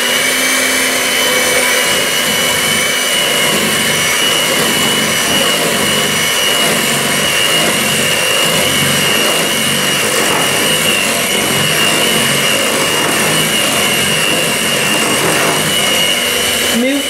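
An electric mixer running on its low setting, beating cupcake batter of egg and flour, a loud continuous whirring drone close by, unbroken throughout.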